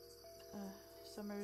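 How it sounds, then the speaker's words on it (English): Cicadas buzz steadily in the summer background, a faint continuous drone with a few soft chirping pulses and a distant tonal hum, no talking. "I like the cicadas and the birds."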